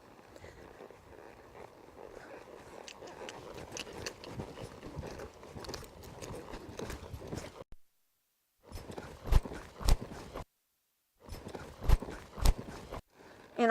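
A horse at a slow lope in an arena, its hooves beating out a steady rhythmic clip-clop that is fairly close and faint, with short gaps of silence between runs.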